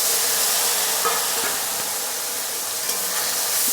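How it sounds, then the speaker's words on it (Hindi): Tomatoes with green chili and potatoes frying in a pan, giving a steady bright hiss and sizzle that fills the clip at close range, with a few faint clinks. "और टमाटर को थोड़ा सा फ्राई कर लेंगे।"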